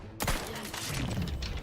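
Bursts of gunfire in the video game The Outer Worlds 2 start with a sharp, loud report and continue as dense, rapid shooting with thuds for more than a second, close and without talk.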